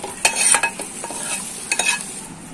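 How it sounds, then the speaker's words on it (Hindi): Onion tempering sizzles and crackles in hot oil in a pan as it is stirred, with a few sharp scraping clatters over a steady frying hiss, while cooking an eggplant dish. "अब मैं इसमें तड़का दे रही हूँ"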